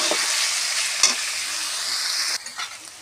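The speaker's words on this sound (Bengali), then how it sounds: "তেলের সঙ্গে এমনভাবে ভেজে নিতে হবে।" Ginger garlic paste fries and sizzles steadily in hot oil while being stirred in a pan, a continuous bright hiss with brief scrapes of the spoon, briefly dipping near the end.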